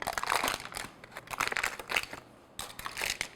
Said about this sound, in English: So just lift the pan and peel back our foil